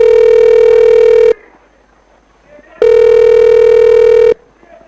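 A telephone dialing effect for a phone-a-friend lifeline on a quiz-show stage skit: two loud, steady tone bursts of about a second and a half each, separated by a short pause.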